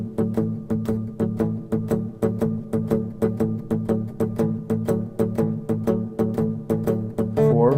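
Guitar chords strummed in a steady, even shuffle rhythm, a blues progression played alone with no voices and a brief scrape at the end.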